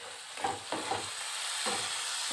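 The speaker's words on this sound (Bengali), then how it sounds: "মশলাগুলো কষানোর জন্য জল দিয়ে দিলাম দিয়ে ভালো করে কষাতে হবে" Spice masala with tomato and water being stirred in a pan, giving a soft continuous sizzle with a few scraping stirs near the start.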